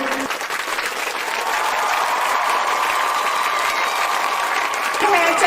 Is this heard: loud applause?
yes